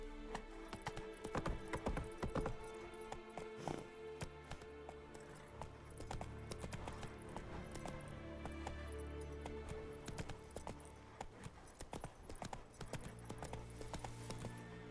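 A horse gallops in The Witcher 3, with a continuous rhythmic clatter of hooves that runs for the whole stretch at a steady, moderate level under faint game ambience.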